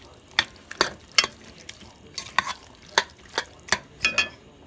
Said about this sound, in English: So we're just going to mix it around.